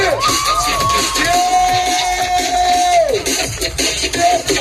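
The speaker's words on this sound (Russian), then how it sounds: "Аплодисменты!" Spectators at an extreme sports show with scooter tricks cheer and whoop loudly, high excited voices and shouts rising over a busy crowd roar throughout.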